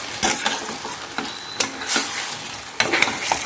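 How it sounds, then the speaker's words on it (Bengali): Yogurt-marinated chicken with salt, turmeric and cumin stirred and sautéed in a pan, a steady close sizzle broken by repeated spatula scrapes and knocks. "এবারে কিছুক্ষণ কষিয়ে নিতে হবে।"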